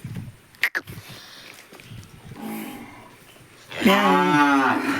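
After some shuffling and knocks, a cow lets out a long, loud moo nearby, preceded by a softer, lower bellow.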